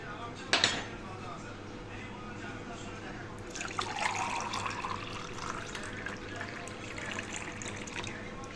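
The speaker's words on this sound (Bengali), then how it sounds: "এখন একটা গ্লাসে ঢেলে নিব।" Tang orange sharbat poured into a glass, a faint liquid trickle and splash following a sharp clink of the vessel, close and quiet, with faint voices in the background.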